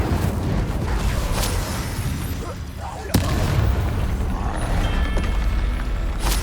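An Incendio fire spell in the Hogwarts Legacy video game bursts with a sharp crack followed by a rumbling, roaring blast over dense game noise.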